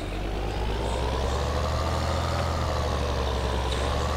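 A tractor with all-wheel drive accelerating in a farming video game with realism mods, a steady loud engine drone with low rumble held evenly throughout and no talk.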